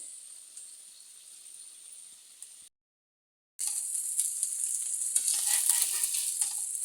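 Paneer cubes fry in oil in a pan with a soft steady sizzle, a brief silent gap, then louder crackling frying with stirring.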